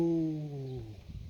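A homing pigeon gives a single low, warbling coo that slides downward in pitch, close by and alone, with soft shuffling at the end.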